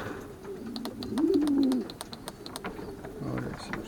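Racing pigeons at the loft give a low throaty coo near the middle, followed by softer murmuring coos and scattered clicks, with faint background noise.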